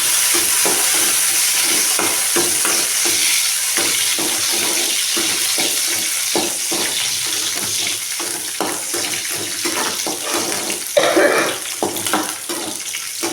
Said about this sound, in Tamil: இதில் வந்து இப்போ முந்திரி திராட்சை போட்டு வறுத்துக்கலாம்